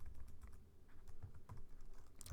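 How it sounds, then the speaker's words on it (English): Fingers type on a computer keyboard in a quick, irregular patter of soft clicks, faint and steady with no one speaking. "Oops, sorry, my typing is bad."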